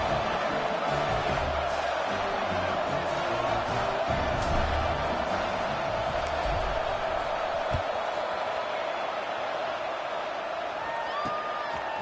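A stadium crowd in the football video game NCAA Football 26 murmurs and roars steadily throughout, a dense continuous wash with faint scattered thuds and no clear single cheer.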